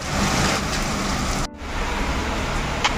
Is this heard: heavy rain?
yes